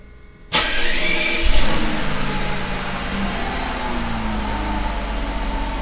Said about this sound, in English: I want to start the car, see if it comes up